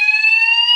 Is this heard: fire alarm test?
yes